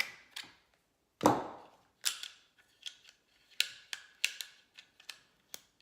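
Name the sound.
disassembling P320 pistol, removing fire control unit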